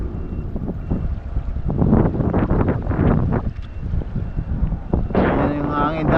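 Steady wind gusting over open water, a headwind met while out on a boat, roaring and buffeting the microphone throughout with a person talking over it.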